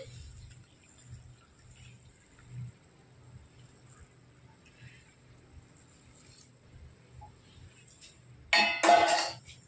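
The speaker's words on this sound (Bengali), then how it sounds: "এখন জলটাকে চাউমিনের মধ্যে ঢেলে নেব" Hot water poured into chow mein in a kitchen: a short splashing pour near the end, after a stretch of quiet low background murmur.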